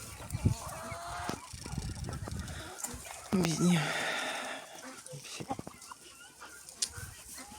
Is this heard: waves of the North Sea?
no